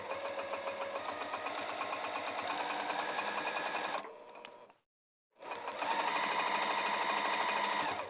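Sewing machine stitching fabric for lounge pants, a steady loud mechanical whir with rapid stitch rhythm, stopping briefly for a short silence before running again at full speed.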